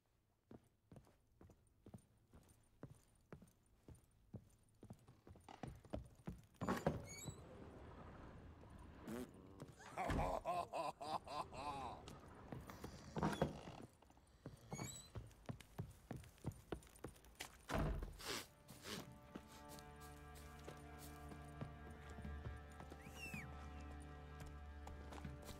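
Horse hooves clip-clop in The Witcher 3 video game, a quiet, uneven run of hoof strikes that quickens into a steady gallop rhythm alongside game music and effects, with no speech.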